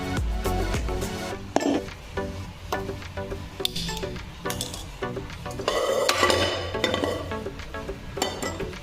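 Metal cookware clanks and clinks as a pressure cooker is lifted and handled in a home kitchen while cooking vegetable kurma, with several close, irregular knocks and scrapes against a busy kitchen background.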